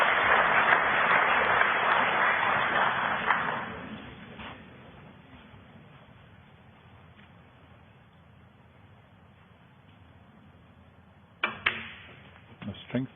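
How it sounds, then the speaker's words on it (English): Crowd applause at a snooker match at the Australian Open, a dense roar of clapping that swells loudly for a few seconds then fades away, followed by a quieter hall and sharp knocks near the end. "The strength of that applause there"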